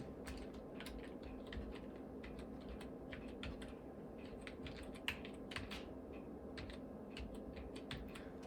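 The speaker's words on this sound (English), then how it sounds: "I'm tormenting myself using this keyboard. It's old and very worn out." Rapid, irregular keystrokes on an old, heavily worn Apple iMac G3 keyboard, each key press a light click over a steady low background hum, continuous for several seconds with no talking.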